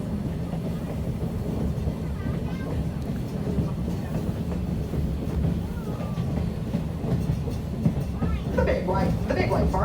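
A steam train runs through snowy Lancaster County countryside, its low rumbling and rhythmic clatter steady and fairly close, with a whistle-like tone briefly audible under ongoing talk.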